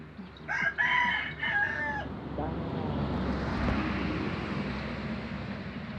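A rooster crows once near a chicken house, a loud close call at the start, followed by a quieter crow and soft clucking over steady rural background noise.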